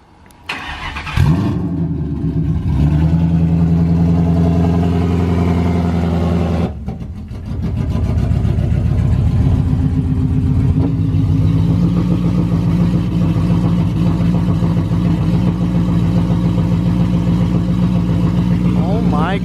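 A Ford Mustang fitted with a swapped-in Coyote V8 fires up for the first time after a jump start. It catches with a loud roar and settles into a steady idle. After a brief stutter it rises again into a sustained loud rumble, with voices faintly under it.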